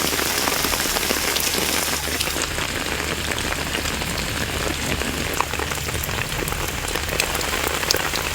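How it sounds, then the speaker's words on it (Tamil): Heavy rain in Sivakasi during a thunderstorm, a dense, loud, steady roar of water pouring onto surfaces, unbroken throughout with no voices. "இடி மின்னலுடன் கூடிய கனமழை வெளுத்து வாங்கியது"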